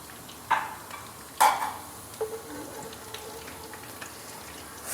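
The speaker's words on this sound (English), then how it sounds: "Frying together." Onion and fenugreek seeds fry in oil with a soft steady sizzle, broken by a few clinks and scrapes of stirring up close.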